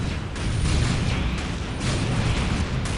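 Dense, continuous blasts and booms of plasma cannon fire from a Siege Terminator squad in the strategy video game Dawn of War, a loud wash of explosions that never lets up.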